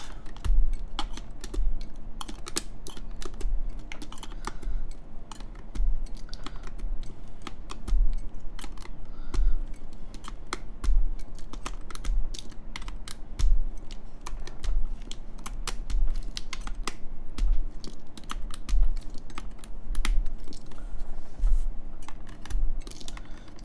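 Mechanical switches being pulled one by one from an ASUS ROG Azoth+ keyboard with a steel plate, a quiet steady series of sharp clicks and snaps repeating every second or so against faint background hum.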